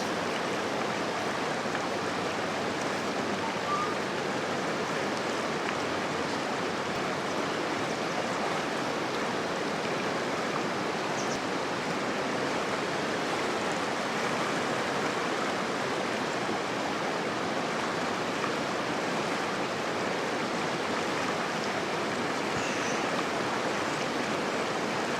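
A river flows steadily near a hammock campsite in Mandokoro, making a continuous broadband rush of moving water that stays even and fairly close for the whole stretch, with no voices.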